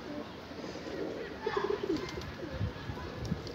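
A male posta pigeon, a Turkish breed, coos in soft, low, bubbling phrases close by, over a faint background hiss, with no talking.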